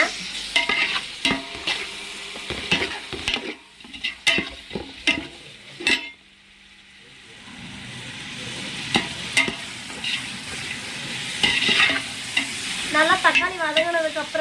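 Tomatoes sauté with rock salt in a pan for chicken biryani, sizzling loudly as a spoon scrapes and clanks against the metal in repeated, irregular strokes, with a short quieter pause partway through.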